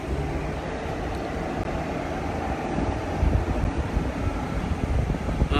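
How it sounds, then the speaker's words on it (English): Wind blows steadily outdoors, a close, rumbling roar buffeting the microphone and growing gustier toward the end. "It's getting a lot windier now."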